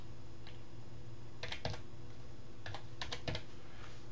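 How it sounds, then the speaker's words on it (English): Computer keyboard typing while entering a colour value in Photoshop CS5: a few short clusters of crisp key clicks separated by pauses, close and fairly quiet over a steady low room hum, with no talking. "I'm going to type in the color because I know what color I want there."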